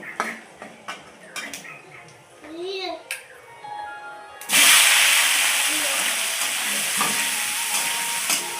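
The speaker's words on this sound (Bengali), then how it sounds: "দেওয়ার পরে সেদ্ধ করে রাখা আলু ওই তেলে দেব।" Boiled potatoes drop into hot oil already seasoned with five-spice tempering, setting off a sudden loud, sustained sizzle that keeps hissing steadily after a stretch of clinking utensils and a voice.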